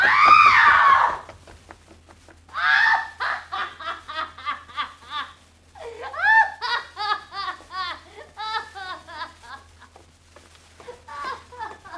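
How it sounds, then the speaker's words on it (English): A woman screams loudly and shrilly in a Jack the Ripper crime radio drama, followed by excited, high-pitched cries and laughter-like vocal bursts in a short string of rising and falling calls. "She screamed."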